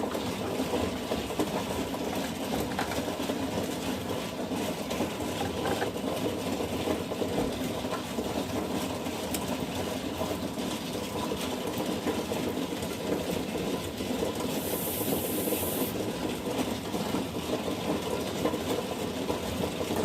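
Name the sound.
fine diamond wheel grinding edge of larimar stone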